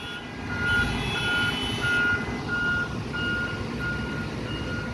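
Reversing beeps from a pickup truck backing up on a tight roadway, a steady series of evenly spaced beeps over a low engine rumble, fairly close and clear with no talking.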